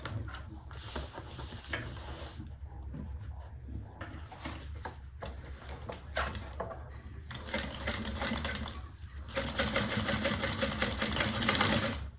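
A sewing machine basts a fabric band onto a garment with a 1/8 inch seam allowance, running in steady continuous bursts with brief pauses, close and fairly loud, growing busier toward the end.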